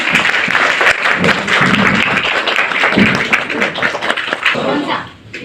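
Audience in a beauty parlour product demonstration bursts into loud, dense clapping close by, steady for several seconds before tapering off near the end, with voices mixed underneath.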